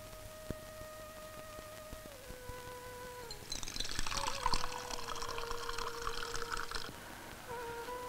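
Water runs from a tap into a vessel in an old Hindi film scene, a splashing pour of a few seconds in the middle that rises over soft background music and then fades.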